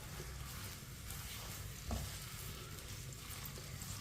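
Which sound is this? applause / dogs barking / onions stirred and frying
onions stirred and frying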